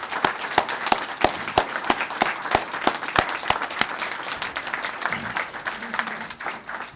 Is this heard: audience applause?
yes